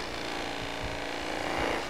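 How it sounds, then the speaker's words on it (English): Excess wax is buffed off a wooden piece with a power buffing tool, making a steady rubbing whir with a few soft low thumps as the workpiece is pressed and shifted. "buff a little bit of the excess off"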